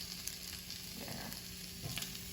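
Potatoes simmer and sizzle in gravy in a pan, a steady close frying hiss with occasional soft stirring scrapes, no voices.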